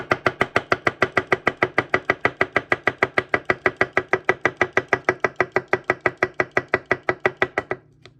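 A Tsunehisa 175mm bunka knife slicing a russet potato on a board, a rapid, steady run of crisp close chops, about four per second, that stops abruptly near the end, with no talking.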